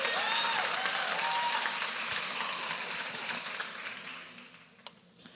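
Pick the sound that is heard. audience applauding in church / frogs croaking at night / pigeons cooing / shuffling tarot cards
audience applauding in church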